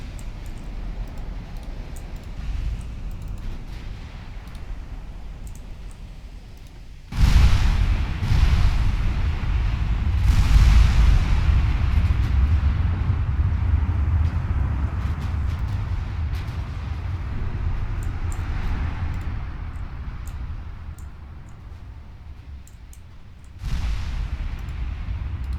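Naval gunfire in the warship game Ultimate Admiral Dreadnoughts as a battle fleet shells the Kaiser Wilhelm: heavy low booms at about 7, 10 and 24 seconds, with a long rumbling roll and wind-like noise after each salvo.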